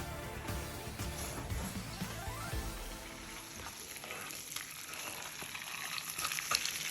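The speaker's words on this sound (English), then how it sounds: "After 5 minutes, it's time to turn the steak." A porterhouse steak being turned in a hot pan gives a soft, continuous sizzle and crackle, fairly quiet and close, with brief handling noises and no talking.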